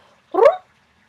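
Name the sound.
cat purr-meow call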